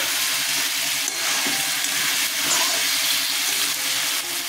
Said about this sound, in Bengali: আমি এবার একটু জল দিয়ে দেবো,